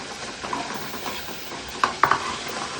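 Spice paste for a Malwani prawn curry sizzling in hot tempering oil, a steady frying hiss with a few sharp stirring scrapes and clinks of a spoon against the pan near the end.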